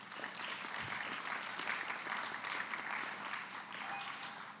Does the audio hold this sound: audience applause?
yes